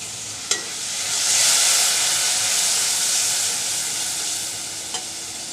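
A little water poured onto garlic and turmeric frying for a lentil and ridge gourd dish, setting off a loud, steady steamy hiss and sizzle, with a sharp clink at the start and another near the end.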